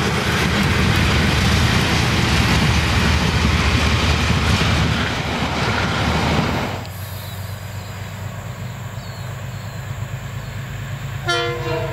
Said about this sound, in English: we see the train crossing State Highway 73 at Aitkins